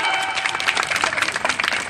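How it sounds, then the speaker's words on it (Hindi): Short burst of crowd clapping at an outdoor Ramlila stage performance in Mau during a garland-offering ceremony, moderately loud and uneven for a moment. "तालियां।"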